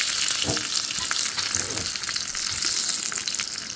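Shallots and curry leaves fry in hot oil with a loud, continuous close sizzle and crackle, plus a few spoon scrapes, and no one speaks.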